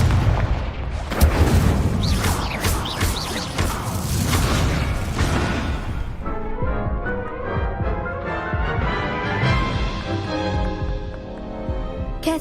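Spell combat in the Hogwarts Legacy video game: a dense barrage of booming blasts and crackling bursts, loud and continuous, giving way to a ringing, tonal magical wash with rhythmic pulses in the second half.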